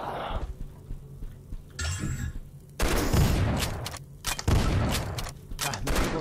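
Loud bursts of gunfire in the video game Dread Templar with booming blasts and clanging effects, rapid and chaotic, continuing through the clip.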